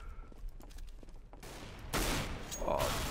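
Bursts of gunfire from a CS:GO match, including a shotgun, crackle in quick clusters through the second half, fairly loud, with a player talking over the game at times.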